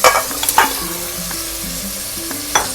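Meat frying in a pan with garlic-ginger paste, a steady sizzle under repeated scraping stirs and clinks of a spoon against the pot, close and fairly loud.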